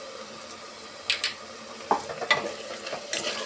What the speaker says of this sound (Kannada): ಆಯಿಲ್ ತೇಲ್ ಬರೋ ತನಕ ನಾವು ಫ್ರೈ ಮಾಡ್ಕೊಬೇಕು